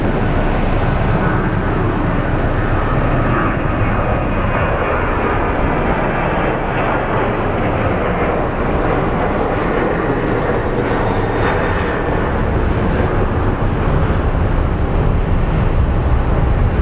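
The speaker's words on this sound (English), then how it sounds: "There she is, powering up. Getting ready to depart." An airliner's jet engines spool up for departure at Sky Harbor International Airport, a loud continuous roar with broadband rumble holding steady and building slightly, heard at close range with no talking.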